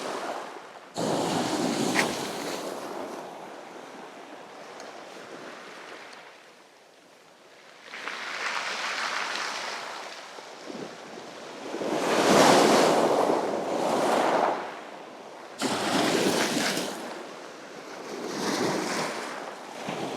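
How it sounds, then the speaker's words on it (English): Sea waves break and wash onto a beach at high tide in repeated surging swells, with wind buffeting the microphone and no talk. "It's lovely to hear the waves crashing on the beach."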